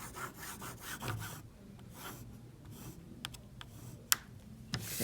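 Pencil drawing a line on the back of fabric, a faint dry scratching and rubbing with a few light taps, quiet and close.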